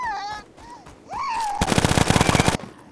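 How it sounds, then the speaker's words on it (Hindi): In the Mission Evo game, rapid automatic gunfire fires at the Banshee in one sustained, loud burst of about a second. Before it, warbling, whooshing creature tones rise and fall. "अब मारता हूँ मैं इसे।"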